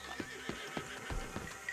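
A horse in the Red Dead Redemption 2 game whinnies, with a few short neighs and snorts spaced through the moment and light hoof clops underneath, fairly quiet and with no talk.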